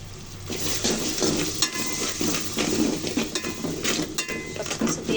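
Spiced, marinated mutton frying in a pan for khashir mangsho bhuna, with a steady sizzle under repeated scraping and clattering of a spoon stirring against the metal pan, close and fairly loud.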